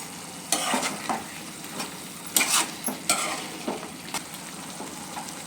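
Green chilli chicken with masala and coriander frying in a pan, a steady sizzle broken by several sharp scrapes and stirs of a spoon against the metal, close and loud.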